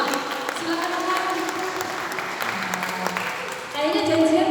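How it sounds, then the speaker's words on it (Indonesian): An audience at a talk on Batak Dalihan Na Tolu philosophy claps in welcome as speaker Amang S. Hutagalung is introduced. Applause of moderate loudness continues under a voice speaking over it, then swells near the end. "tentu dengan tepuk tangan juga kita menyambutnya"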